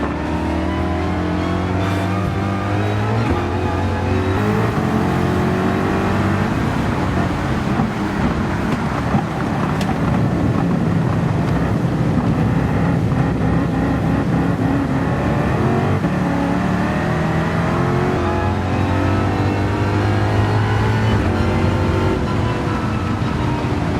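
Race cars in a Gran Turismo race lap near the carousel, a Corvette just ahead, engines roaring steadily for the whole stretch, with revs rising and falling through gear changes and no talk.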